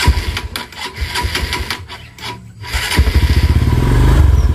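A 150cc sport motorcycle with a vacuum carburetor and worn clutch is started and left running, its engine note rising into a steady, rapid close-up putter after an uneven, rough opening.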